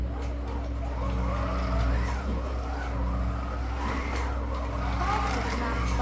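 Slot cars race in a 2 litre time trial, with a continuous whirring motor drone and squealing tyres, steady and close, under a voice talking.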